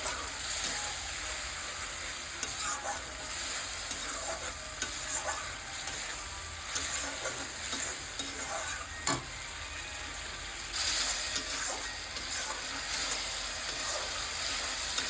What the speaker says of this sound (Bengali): মশলাতে তেল ছেড়ে গিয়েছে, দিয়ে দিচ্ছি ব্লেড করা টমেটো পেস্ট। টমেটো পেস্ট দিয়ে একটু কষিয়ে নিচ্ছি।